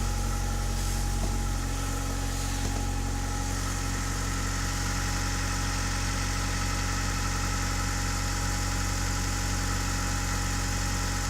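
Honda Odyssey RA1 engine running through a high flow muffler, a steady low droning exhaust rumble at idle, loud and close with constant vibration and no variation in revs.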